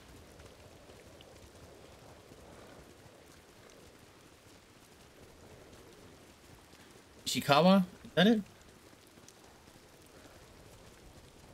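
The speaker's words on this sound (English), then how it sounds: "It's always raining here." Steady rain falls in Ghost of Tsushima, a constant soft hiss throughout, with someone briefly talking over it near the middle.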